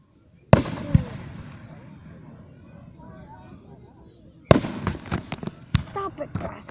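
Fireworks burst over Columbus: one sharp boom, a long crackling fade, then a rapid cluster of loud explosions and pops, with voices nearby.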